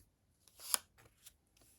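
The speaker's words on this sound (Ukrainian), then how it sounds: "Три карти викладаю." A few soft, quick card snaps and slides on a tabletop, three brief taps in under two seconds, close and fairly quiet.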